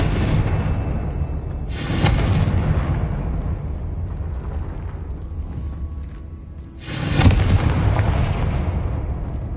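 A Confringo blasting spell in the Hogwarts Legacy video game bursts twice, each explosion a loud broadband boom with a rumbling tail, about five seconds apart over a constant low game ambience.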